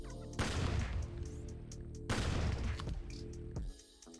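Bursts of video game gunfire from the rogue-like shooter Enter the Chronosphere, two loud crackling volleys in quick succession with no talking.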